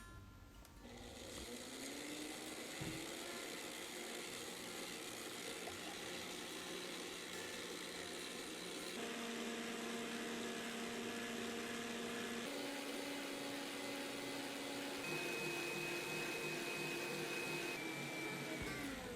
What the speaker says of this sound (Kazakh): Алдымен жұмыртқаға қантымызды салып, жақсылап көпіртеміз.